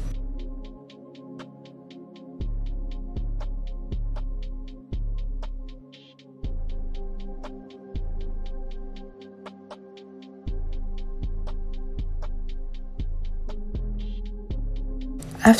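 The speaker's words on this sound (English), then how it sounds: "Now I'm hemming the edges, and I would also be sewing the seam allowance as well." A sewing machine hems the edges of a tulle skirt, humming in steady runs that stop and restart many times, with a fast, even needle ticking over the hum and no talk.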